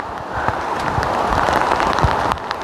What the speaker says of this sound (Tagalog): naririnig nyo po mga kabayan ng ulan